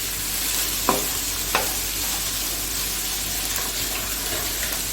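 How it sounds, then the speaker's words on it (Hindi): Chopped onions sizzle steadily in a hot pan with oil, a constant frying hiss broken by two sharp scrapes of a spoon stirring them, close and without talk. "अब इसमें डालूंगी प्याज और इसको भी थोड़ा सा मैंने फ्राई करना है"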